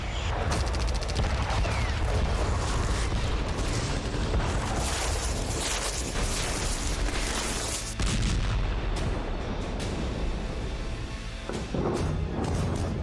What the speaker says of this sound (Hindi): यमन के तटीय क्षेत्र में धमाके शुरू हो गए